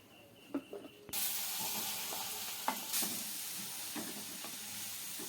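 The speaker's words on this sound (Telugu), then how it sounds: "ఇప్పుడు ఇందులోనే మనం తురుముకున్న బీట్రూట్ వేసుకుందామండి" Grated beetroot drops into a pan of hot fat where raisins have just fried, bursting into a loud, steady sizzle that continues with occasional stirring clatters.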